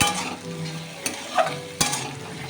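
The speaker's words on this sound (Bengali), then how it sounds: "দিয়ে কুমড়োকে এখন ভালো মতো মিশিয়ে নেব" Small pumpkin pieces stirred into a frying pan with ginger and garlic, a close sizzle with a few sharp scraping strokes of the spatulaat irregular intervals, no talking.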